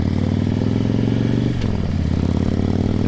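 Harley-Davidson Batwing motorcycle riding on back roads, a loud, continuous close engine drone with rumbling low tones and a brief shift in pitch midway.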